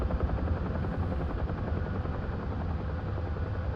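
A Huey helicopter in a Vietnam-era DCS flight simulation holds a constant, loud, close rotor thump and turbine whine with no break or pause, and no voices over it.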